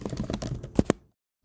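Typing a name on a computer keyboard, a quick run of soft clustered keystrokes ending in two firmer clicks, then silence.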